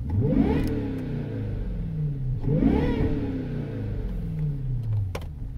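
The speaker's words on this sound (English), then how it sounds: "So yeah, supercharger whine." A Jaguar's supercharged engine revved while the car is parked, two rising and falling rev cycles with a high whine climbing over the deep mechanical growl, loud and close.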